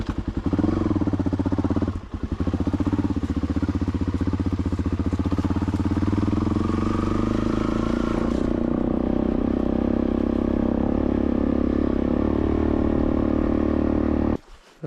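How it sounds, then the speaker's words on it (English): A dirt bike engine fires up and runs loud and close, a rough steady drone with one brief dip, then the pitch shifts as it is ridden off before cutting out at the end. "we're just going to get this bike started up and go for a rip."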